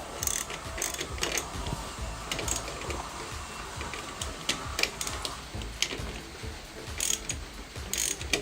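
A ratchet clicks in quick, irregular bursts while tightening the oil pressure switch on a Suzuki Katana GSX600F motorcycle. The clicking is close and fairly quiet, with no voice over it.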